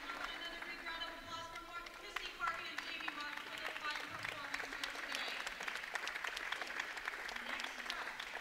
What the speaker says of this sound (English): well-deserved round of applause for Missy Parkin.